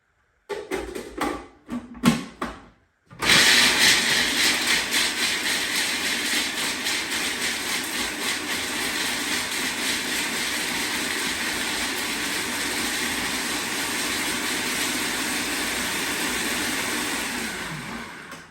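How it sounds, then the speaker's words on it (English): A few short choppy bursts, then a blender roars loudly and continuously, crushing whole almonds for a long stretch before cutting off. "I'm going to pop into my blender, and I'm just going to crush those up first."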